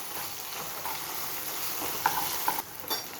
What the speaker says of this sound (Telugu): అల్లం వెల్లుల్లి పేస్ట్ వేసి కాసేపు మళ్ళీ ఇది ఇలా కలుపుకుందాం.